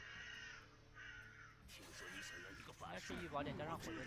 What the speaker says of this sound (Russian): Че у меня тут за вороны летают, короче? Вы слышите? Каркают тут что-то.